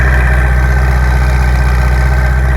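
A 2017 Ferrari 488 Spider idles with its mid-mounted engine, a close, steady, deep rumble with an even throbbing pulse that holds constant throughout.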